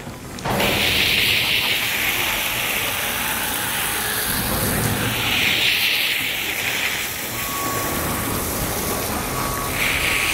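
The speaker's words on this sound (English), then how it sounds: "I'm going to go ahead and rinse that one off." Water spray rinsing cleaner off a rubber RV roof, a steady loud hiss that swells and eases in pulses as the stream sweeps across the surface, running continuously.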